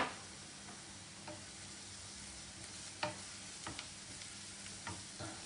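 Onions with a pinch of salt frying and caramelizing in a pan, a steady soft sizzle broken by occasional sharp clicks and stirring taps, close and fairly quiet, with no voices.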